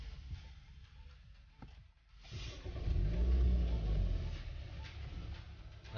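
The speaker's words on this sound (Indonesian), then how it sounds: "Oke, kita nyalakan dulu ya mesinnya." Toyota Corolla Altis 1.8 G engine from 2020 starting up: a click and brief pause, then a low rumbling idle that swells and holds steady, heard close with no talk.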